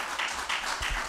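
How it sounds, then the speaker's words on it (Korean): A church congregation claps briefly, a soft patter of many hands from a moderate distance. "박수 한번 더 하겠습니다."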